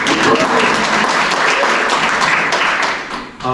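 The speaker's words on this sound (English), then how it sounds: "We got to give her applause for that, right?" Conference audience applauding at a real estate event in a hall, a dense sustained burst of clapping that holds steady for a few seconds, then thins out and tapers off near the end with faint voices mixed in.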